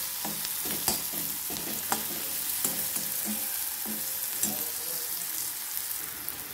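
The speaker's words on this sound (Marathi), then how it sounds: "आणि हे सर्व छान मिक्स करायचे आपल्याला" Tomato, onion and turmeric sizzling in a pan for a pasta breakfast, with a spoon scraping and stirring in a regular rhythm over a constant frying hiss, close and clear with no talking.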